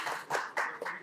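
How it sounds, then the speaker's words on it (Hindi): Audience clapping in a television studio, a faint, short burst of several hand claps in uneven bursts. "एक बार तालियां बजाइए जरा जोरदार।"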